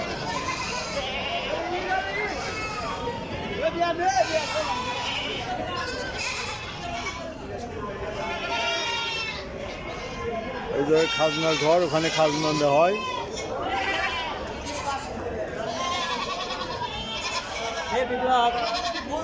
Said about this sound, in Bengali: এই যে সব ছাগল, প্রচুর পরিমাণে ছাগল হাজিরহাটে আমদানি হয়।